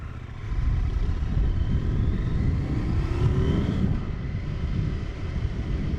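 CFMOTO 800NK motorcycle on a ride, a continuous low engine drone with wind rumble that holds steady throughout, heard from on the bike with no speech.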